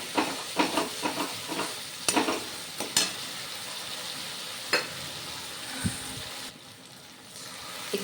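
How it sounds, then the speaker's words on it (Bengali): Spices frying and being stirred in a pan for raw banana kofta curry, a Bengali dish, giving a steady sizzle with scattered scraping stirs throughout, nearby and moderately quiet, with no voices. "মশলা ভালো করে কষিয়ে নেব।"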